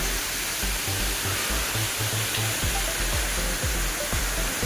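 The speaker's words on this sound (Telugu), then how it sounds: "చిన్న వాటర్ ఫాల్," A small waterfall in dense forest at Yerkampalem near the Godavari gives a steady, broad rushing roar of falling water that stays even and close throughout, with faint low thumps beneath and no voices.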